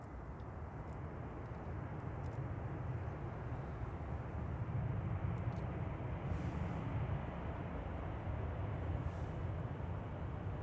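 Boeing 787-8 airliner arriving from Bangladesh at Manchester Airport, a low, steady engine roar at a distance that swells slightly and holds for the whole stretch, no voices.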